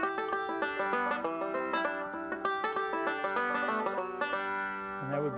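A five-string banjo plays a quick picked variation on the bluegrass tune Cripple Creek, with bright rolling notes in a steady run, close and clear with no talking.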